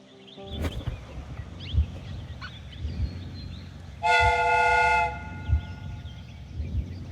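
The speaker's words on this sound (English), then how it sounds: "The steam whistle is ready to be used." A steam whistle on a replica train in the video game Sherlock Holmes: Crimes and Punishments gives one loud, steady blast of about a second midway, over a low rumbling ambience with faint scattered sounds.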